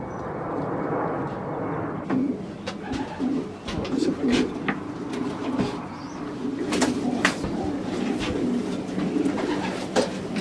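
Pigeons cooing inside a fancier's loft, repeated low coos from several birds close by over a steady background, with a plane faintly overhead and some movement noises.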